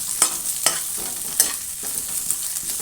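Mashed ingredient stirred into onions frying in a pan for a red chutney, a steady sizzle broken by several sharp stirring scrapes and clicks, close and fairly quiet, with no talking.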